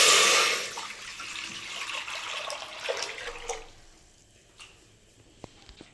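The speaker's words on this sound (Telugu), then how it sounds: "మనం ఇప్పుడు సేమియాకి సరిపడా వాటర్ పోసుకుంటాం." Water pours noisily into a cooking pan for vermicelli payasam for a few seconds, then tapers off into faint drips and small clinks.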